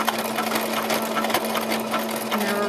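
Continuous rapid whirring of a sewing machine zigzag stitching fabric for a hat, steady and close with a constant motor hum throughout.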